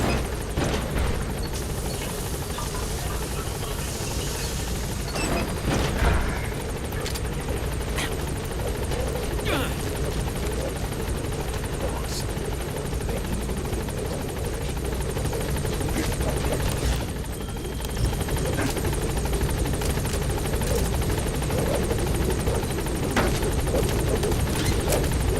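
Military transport helicopter from Metal Gear Solid V landing and lifting off, a loud continuous rotor thrum and turbine roar filling the whole stretch, with brief radio-style voices over it.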